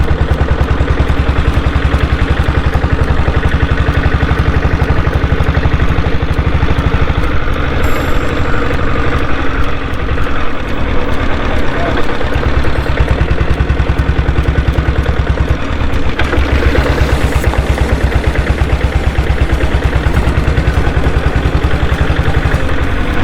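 A restored diesel Bullet motorcycle engine runs steadily in second gear, a loud, continuous low thumping idle with mechanical clatter throughout and no talking.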